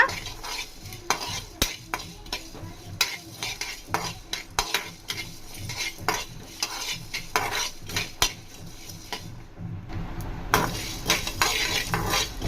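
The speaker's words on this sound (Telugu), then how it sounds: "చూడండి, ఈ విధంగా దోరగా ఫ్రై చేసుకోవాలా" Mutton head pieces (talakaya curry) fry in a pan on a stove and are stirred steadily, with the spoon scraping and clinking against the metal under a continuous sizzle, loud and close, no talking.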